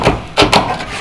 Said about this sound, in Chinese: 现在要把它剁一下，先把两个爪子剁下来